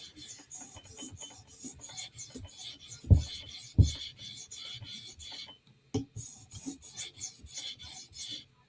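A custom Para 3 knife is sharpened on a TSProf Kadet guided system, giving rapid, rhythmic rasping strokes of abrasive against steel, close and fairly quiet, with a couple of louder knocks and a brief pause partway through.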